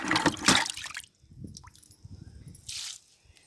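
Liquid fertilizer poured from a glass onto large hibiscus and chrysanthemum plants in a home garden: soft wet splashes and squishy glugs, a louder burst at the start, then quieter trickles and one more splash near the end.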